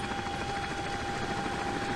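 A CH-47D Chinook tandem-rotor helicopter in the X-Plane 12 flight simulator gives a steady, loud engine and rotor drone with a constant whine, running unbroken from start to finish without talk.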